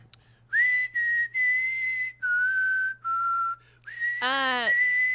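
A person whistles the Jurassic Park theme tune up close: clear, sustained whistled notes in phrased bursts with short gaps, ending in a warbling flourish, while a low steady hum sits underneath.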